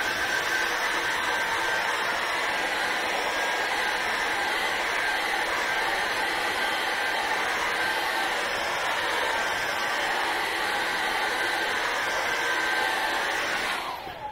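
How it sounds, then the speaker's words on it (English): A hairdryer blows steadily and loudly at close range for about fourteen seconds while drying paint on a mountain painting, then cuts off abruptly. "I'm going to dry this off with a hairdryer."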